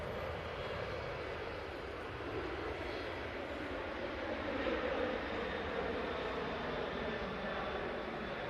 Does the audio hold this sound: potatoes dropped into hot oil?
no